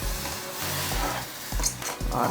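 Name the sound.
tempering added to tamarind stew, sizzling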